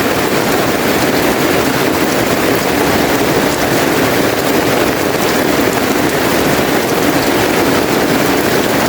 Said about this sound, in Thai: ตกแบบฝนถล่มเลย ฟ้ารั่วแล้วไงเนี่ย